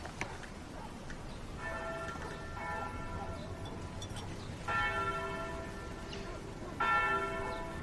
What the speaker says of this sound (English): I like the bells. I like to hear that there is life waiting for us.